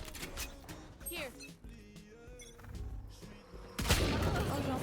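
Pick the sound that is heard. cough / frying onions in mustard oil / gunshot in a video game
gunshot in a video game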